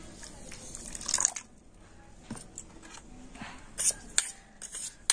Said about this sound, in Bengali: এই হাফ বাটির মতো জল আমি দিয়ে দিচ্ছি